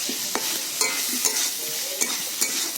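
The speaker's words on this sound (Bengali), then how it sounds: "এবার আমি দিয়ে দেব ভেজে রাখা আলু আলুটাকে দিয়ে আমি মশলার সঙ্গে আরও এক মিনিট মতো কষে নেব" Fried potatoes are stirred and sautéed with spice paste in a pan for an egg and potato curry, a continuous close sizzle with repeated scraping stirs and soft clacks about every half second, and no voices.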